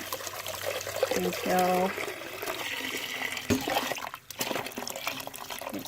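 Water reused from boiling canning jars and lids is poured from a pot over jars in a Nesco Smart Canner, a close gurgling pour with brief rising tones as the level climbs, under a few spoken words.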